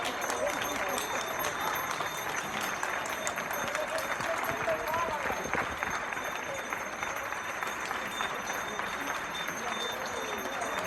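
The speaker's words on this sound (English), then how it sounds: "it is applause time in Chueca" Applause rings out across Chueca square in Madrid during a pandemic lockdown evening, steady, dense clapping from many people spread around the square, continuous for the whole stretch with some crowd noise mixed in.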